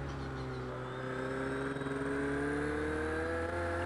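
Turbocharged race car engine in Project Cars 2 on a circuit, a steady high turbo whir with rising harmonic tones over a continuous engine drone, sustained and loud with no talk.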